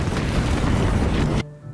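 Explosive barrels blow up in Baldur's Gate 3, a loud, dense roaring blast that fills the scene and then drops suddenly into quiet ambience.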